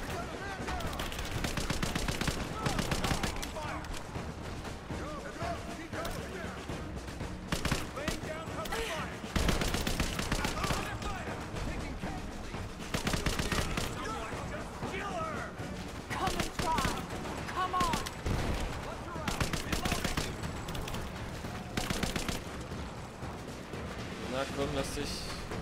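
Submachine gun fire in Rise of the Tomb Raider comes in repeated rapid bursts over game sound, loud and close, with someone talking over much of it.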